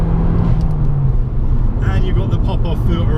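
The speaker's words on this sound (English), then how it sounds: "That Akrapovic exhaust" A 1972 Abarth 695 with an Akrapovic exhaust and pop-off filter revs up, its loud engine rasp rising over a deep drone, recorded close and continuous throughout.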